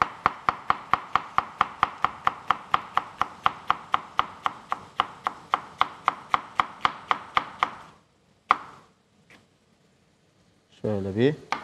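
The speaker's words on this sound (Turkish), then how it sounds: "minik minik doğrayalım." A knife finely chops peppers on a board in an Anatolian kitchen, a fast, even run of about thirty sharp close taps, then a pause with a couple of knocks and someone talking at the end.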